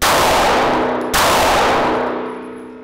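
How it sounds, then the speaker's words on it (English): Two loud handgun shots fired at close range on a shooting range, each a sharp crack followed by a long ringing decay, the second about a second after the first. "I'm gonna take a shot or two."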